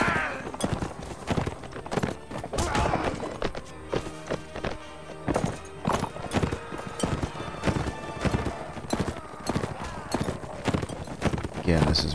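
A courser horse gallops in the video game Mount and Blade Warband, with rapid, loud hoofbeats drumming steadily throughout, a whinny breaking in now and then, and a voice talking over it.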